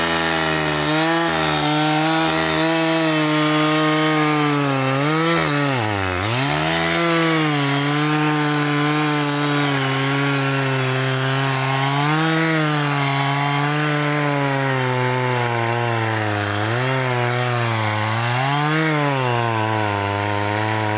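A chainsaw cuts through a tree trunk near a stump, its loud engine droning continuously close by and dipping and rising in pitch as the chain bites and bogs in the wood.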